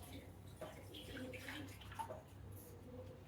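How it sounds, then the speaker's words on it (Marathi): Water sloshing and pouring steadily into a wok for a few seconds, with a faint murmur of background sound. "कढाईत टाकलं पाणी"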